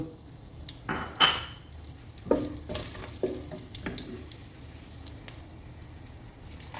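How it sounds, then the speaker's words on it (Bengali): Whole garam masala spices crackle softly in hot oil in a pan, with a few sharp utensil clinks and scrapes. The sound is quiet and close, with no voices. "তেল গরম হয়ে গেছে, আমি গরম মশলা দিয়ে দিব।"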